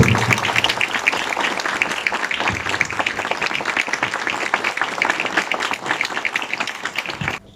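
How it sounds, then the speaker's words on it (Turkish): Loud, sustained applause from a crowd at a party district election meeting, dense steady clapping filling the room for several seconds before cutting off. "Her iki arkadaşımıza yüksek bir alkış istiyorum."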